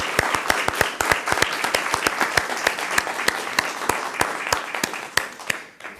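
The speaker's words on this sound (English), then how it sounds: "let's give them a round of applause" Audience members at a city council meeting clap for a group of explorers, giving crisp, distinct handclaps in a steady stream of moderate, fairly close applause.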